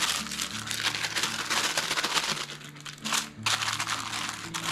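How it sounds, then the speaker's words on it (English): Wax paper crinkles and rustles steadily and close up, with a brief pause midway before the crumpling resumes. "I got some wax paper here."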